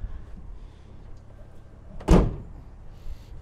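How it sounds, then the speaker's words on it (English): On a 2020 Chevrolet Silverado 1500 RST, the tonneau cover over the truck bed shuts with a single sharp thud at close range, set against quiet background noise. "we do have this tonneau cover. So let's close this off."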